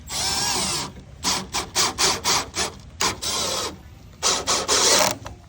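A power drill drives fasteners into the threshold of a Ranger VE storefront door, with several loud, close whirring bursts, some long and some short rapid pulses, and no talking.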